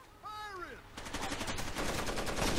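Gunfire in the video game Rainbow Six Vegas 2: after a brief rising electronic tone, loud rapid automatic bursts rattle on steadily and densely to the end.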